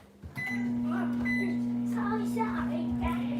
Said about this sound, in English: Nuke it in the microwave for like, I don't know,